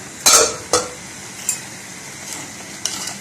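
Green beans frying in a pan, with a few distinct scraping stirs over a soft, steady sizzle, each stir a short sharp burst spaced about half a second to a second apart.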